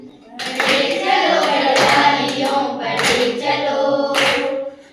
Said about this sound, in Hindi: हम लोग ताली बजाएंगे हल्के से